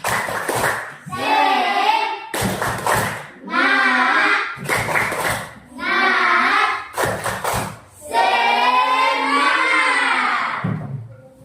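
A class group in an Indonesian classroom performs the rhythmic 'tepuk semangat' cheer. Sharp bursts of group clapping alternate with loud, shouted unison chanting, repeated about five times, close and energetic.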